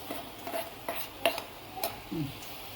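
A utensil stirs clam meat and tomato in a pan, a few light scraping strokes and soft clinks spaced about half a second apart over quiet background hiss, close and faint.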